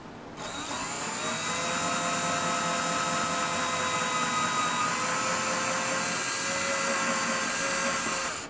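A power drill drilling a pilot hole whines steadily for several seconds, a constant high motor tone with a slight rise in pitch, close and alone.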